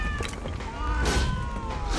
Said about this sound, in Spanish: Oh, gato.